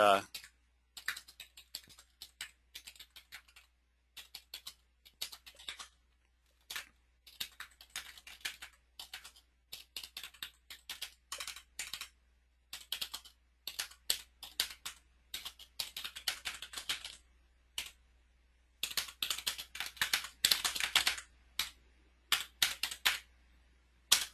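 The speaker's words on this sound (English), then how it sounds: "I know I don't type very fast." Fingers tap on a computer keyboard in irregular bursts of clicks, close and crisp, with short pauses between runs of keystrokes across the whole stretch.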